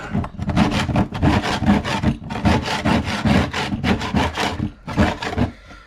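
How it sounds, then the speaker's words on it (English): A metal scraper rubs and scrapes around the inside walls of a box holding leftover solder, a steady run of close, loud rasping strokes in quick rhythm with short pauses between passes. "I also get my scraper, scrape the sides, do it with holding the box"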